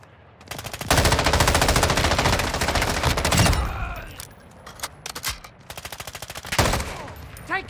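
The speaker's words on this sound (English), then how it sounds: "Taking effective fire." Sustained automatic gunfire rattles loud and close in Call of Duty Modern Warfare II DMZ, followed by scattered shorter bursts and single shots, with faint voices underneath.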